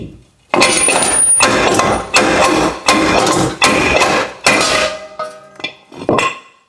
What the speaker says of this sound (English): we're going to turn our disc brake into a slide hammer